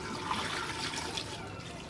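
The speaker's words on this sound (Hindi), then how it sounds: "ये 3 गिलास पानी के मैं इसमें ऐड करने लगी हूँ" Water is poured from glasses into a pot of aloo gosht curry, a steady soft splashing rush heard up close and faint, with no talking.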